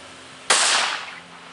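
Rifle shot fired at a target outdoors while zeroing an ATN X-Sight scope, a single sharp loud crack with a short decaying echo after a quiet lead-in.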